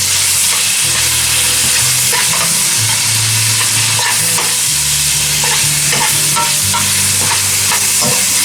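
Chopped alligator tail meat frying in a pan, cooked Everglades style, with a loud steady sizzle and repeated scraping stir strokes throughout, no talking.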